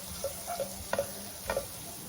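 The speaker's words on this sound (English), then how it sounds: "I'm just gonna give it a nice stir as well to waking up this tomato paste a bit" Tomato paste stirred in a pot for an Egyptian-style vegan green bean stew, a faint sizzle under a few soft scraping and tapping strokes of a spoon against the pot.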